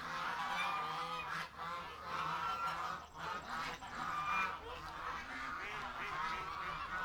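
Steady chorus of Canada geese on water honking and calling close by, overlapping continuously with occasional quacks mixed in.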